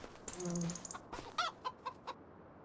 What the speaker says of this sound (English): The rooster's lost the plot.